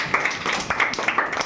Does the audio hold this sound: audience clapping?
yes